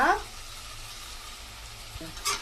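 Grated coconut is stirred into mango rice frying in a pan, giving a soft sizzle with scraping stirs near the start and end, close and fairly quiet.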